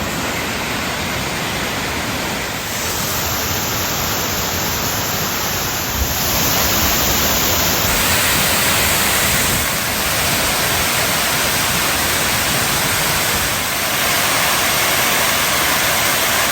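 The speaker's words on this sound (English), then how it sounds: "This is a waterfall extravaganza." Roaring Croatian waterfalls at Krka or Plitvice, a steady, loud broadband rush of falling water that continues without a break for the whole stretch, with no voices over it.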